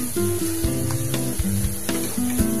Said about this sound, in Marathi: 1 चम्मच तूप टाकले, त्याच्यामध्ये ही मेथी टाकायची, आपल्याला फ्राय करून घ्यायची